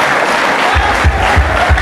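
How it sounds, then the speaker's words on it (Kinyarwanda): A church congregation claps together, a dense burst of applause that swells into rhythmic beats, loud and close throughout. "Mukomere Imana amashyi."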